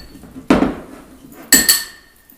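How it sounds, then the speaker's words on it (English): Soaked chickpeas are mashed by hand for hummus, heard as two sharp, close clinks of a utensil against a bowl with a little scraping in between and no talk. "Chickpeas that have been soaking are just really easy to mash up."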